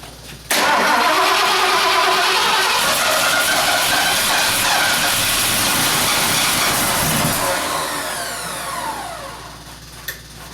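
A starter motor cranks a Ford 460 engine loudly and continuously for several seconds, the whirring grinding slowly fading out at the end with a faint click.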